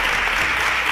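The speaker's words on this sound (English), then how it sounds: "A round of applause for her." Brief burst of audience applause on a televised science quiz show, loud and dense, lasting about a second.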